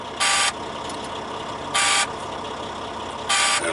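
Truck low air pressure alarm on a heavy-duty truck that won't accelerate or shift, sounding three loud, evenly spaced buzzing beeps over a steady engine idle, no talking.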